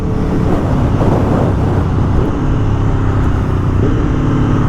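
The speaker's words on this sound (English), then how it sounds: "Oh, listen to that. The downshifts are just great." Aprilia Tuono V4 Factory motorcycle, 2022, with an Akrapovic slip-on exhaust, a steady loud engine roar while riding, continuous and close with no pauses or talk.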